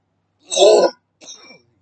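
A single harsh cough followed by a shorter, softer cough, close and isolated against silence.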